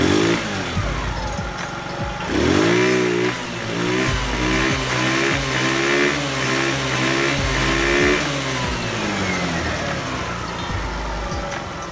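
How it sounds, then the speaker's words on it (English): A scooter engine, freshly repaired after bogging down under acceleration, runs close by and revs repeatedly, its pitch rising and falling in several surges over a steady buzzing idle. "Okay, so I'm gonna rev it up now."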